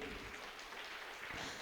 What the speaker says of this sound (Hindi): और जोरदार ताली तो एक बार बनती है।